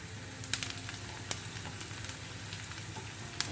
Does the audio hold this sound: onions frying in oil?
yes